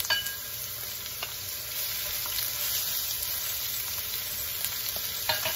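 Onion sizzling in sesame oil in a wok, a steady bright hiss throughout with occasional faint stirring clicks, close and even.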